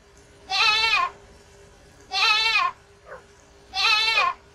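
Goat from the Roblox game Pet Story bleating three times at an even pace, each bleat a loud wavering cry in a quiet setting, with a faint short sound between the last two.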